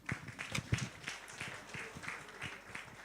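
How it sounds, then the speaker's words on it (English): Sparse, faint applause from a graduation ceremony audience in St. Lucia, heard as scattered individual claps that thin out over a few seconds. "Round of applause for that."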